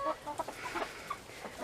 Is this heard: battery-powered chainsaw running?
no